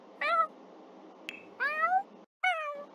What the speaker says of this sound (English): I think he had kind of a low meow.